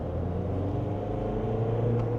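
A 2025 GWM Tank 300 diesel SUV engine accelerating, a steady, loud low-pitched drone with a slowly rising hum from inside the cabin, heard alone.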